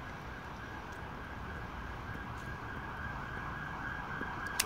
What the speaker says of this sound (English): Oh, that's an ambo.